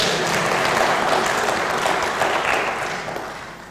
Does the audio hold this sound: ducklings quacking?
no